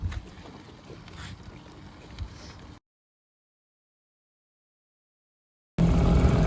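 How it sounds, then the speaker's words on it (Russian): A Stels 5 hp outboard motor drives a small boat onto the plane with two passengers aboard, heard as a wind-buffeted engine drone. The sound cuts out to silence for about three seconds, then returns louder. "Выход на глиссер с двумя пассажирами на лодке."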